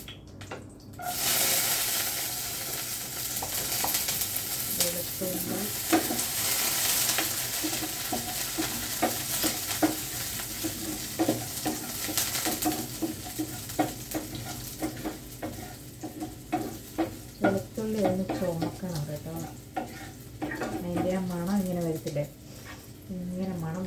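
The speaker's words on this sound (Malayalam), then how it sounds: "അപ്പം നമ്മുടെ കടുക് പൊട്ടി വെളുത്തുള്ളി ഇട്ട് കൊടുക്കണം" Garlic dropped into hot oil after mustard seeds have popped, for a home lunch, sizzles and fries steadily, with spoon stirring and scraping clicks and someone talking over the cooking.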